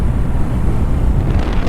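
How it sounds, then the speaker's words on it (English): Wind rushes steadily around a moving car on a breezy spring drive, a loud continuous low buffeting roar with no break. "you can probably hear the wind. It's a little bit windy."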